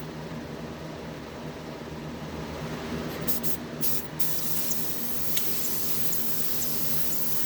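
Paint spray gun spraying a steady, close hissing mist onto a tumbler, continuous for several seconds with a couple of faint clicks partway through.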